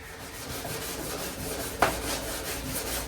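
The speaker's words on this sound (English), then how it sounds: "Back to sanding these edges with 320." Edges of a car body panel on a 1932 coupe are hand-sanded with 320-grit sandpaper, giving a soft, steady scratchy rubbing with one slightly sharper stroke near the middle, fairly quiet and with no talking.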